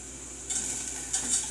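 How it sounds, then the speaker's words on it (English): Broccoli cooking in a pan for cream of broccoli soup gives a steady, close hiss of sizzling that swells in brighter bursts, as if being stirred, with no one talking. "And you're hearing it sizzle, that's a good thing."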